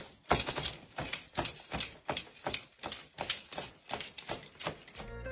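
Foley imitation of a horse: hooves clop in a quick steady rhythm together with rattling chains and leather for saddle and reins, a crisp close series of bright clattering hits.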